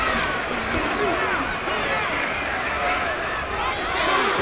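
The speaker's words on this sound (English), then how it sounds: "What about this crowd getting even louder before 3rd and 10?" A roaring stadium crowd fills a Madden 25 football game, loud and steady throughout, with cheering swells and a commentator talking over it.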